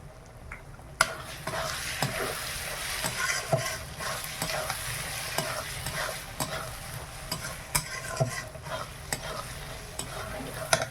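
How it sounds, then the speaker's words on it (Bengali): A spice paste with Kashmiri red chili powder fries in a pan while a utensil stirs it, giving a continuous close sizzle punctuated by frequent scraping knocks and clinks against the pan. "এবার আমি ভালো করে মশলাটা কষিয়ে নেই। মশলা খুব ভালোভাবে ভাজা হয়ে গেছে।"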